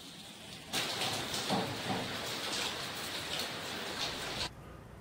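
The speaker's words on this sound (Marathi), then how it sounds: "थोडा थोडा पाऊस पण चालू आहे." Light rain falls steadily as a close, even patter that starts abruptly and stops near the end, with no voices.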